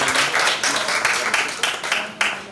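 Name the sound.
audience applause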